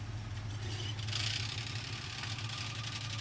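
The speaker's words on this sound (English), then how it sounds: "Oh, the clutch sounds so bad." A 1966 Jeep Gladiator engine runs steadily with a low rumbling idle, and a harsh grinding, rattling noise comes from a worn, bad-sounding clutch, loud and close.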